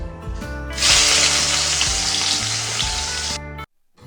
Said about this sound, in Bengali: কড়াতে দেবো তেজপাতা দারচিনি আর ছোট এলাচ একটা দিলাম এবার দেবো পেঁয়াজ কুচি